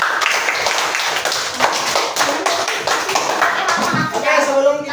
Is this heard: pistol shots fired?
no